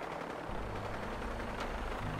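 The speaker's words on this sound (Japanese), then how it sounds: "ヘリの音がする。" Helicopter in Fallout 4, a steady low rotor drone and engine hum holding throughout at moderate level, with no one talking.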